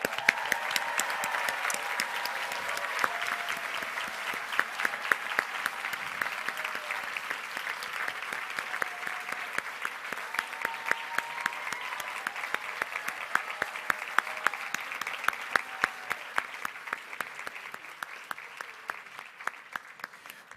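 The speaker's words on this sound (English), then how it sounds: "Let's give him another round of applause." A graduation audience applauds steadily for about twenty seconds, dense clapping at a moderate distance that swells in the middle and thins toward the end.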